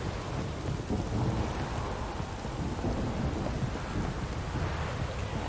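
Steady heavy rain pours down with a deep rumble of thunder rolling underneath, continuous and loud, with no voices, in the video game The Witcher 3.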